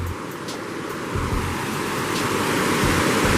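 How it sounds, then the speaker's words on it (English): Carr's Fork's smallest waterfall rushes in a steady, close, broadband roar of falling water, with no voices over it. "this right here is Carr's Fork's littlest waterfall"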